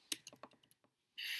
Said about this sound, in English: I typed those in backwards.